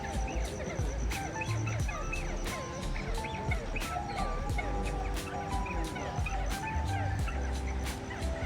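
A noisy mix of bird calls, squawks and gobbling fowl sounds repeating throughout an aviary, with sharp clicks and chirps close by and no talking.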